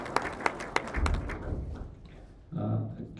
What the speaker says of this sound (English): A round of applause for moderating and conducting the whole session for the day.